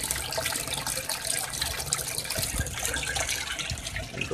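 Water splashing steadily into an aquaponics barrel, breaking and churning the surface to oxygenate it; a continuous, fairly loud, close gushing with no talk.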